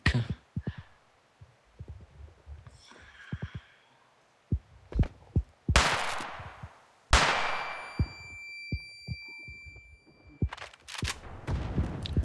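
Several sharp gunshots ring out at irregular intervals, some loud and close with echoing tails, separated by quieter stretches of clicks and knocks.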